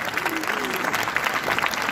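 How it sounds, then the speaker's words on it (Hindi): An audience claps together during a Mother Language Day speech about Hindi, a moderately loud, dense burst of applause with some voices mixed in underneath. "ताली बजाई जाए एक बार हमारी भाषा के लिए"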